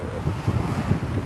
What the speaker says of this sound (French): on a un peu de vent aujourd'hui